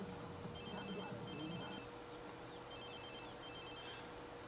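Telephone ringing in The Sims 3 game, two paired electronic trill bursts separated by a pause, faint and thin over a low background hum.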